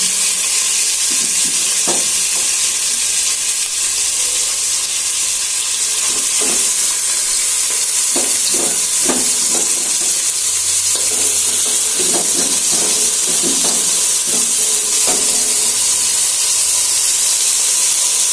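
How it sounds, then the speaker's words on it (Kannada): Onion and mutton fry in a pan for mutton sambar with a loud, steady sizzle and hiss, while a spoon stirs and scrapes at intervals close by. "ಸ್ವಲ್ಪ ಈರುಳ್ಳಿ, ಮಟನ್ ಹಾಕೊತಾ ಇದ್ದೀನಿ."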